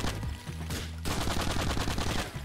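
Rapid gunfire in GTA IV: The Ballad of Gay Tony, dense bursts of automatic shots crackling over a low droning hum, with a brief dip in the middle before the firing resumes, steady and fairly close.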